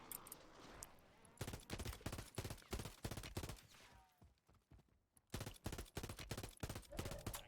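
Rapid bursts of automatic gunfire from a weapon picked up in the Warzone video game: loud, close, repeated volleys with a brief pause midway.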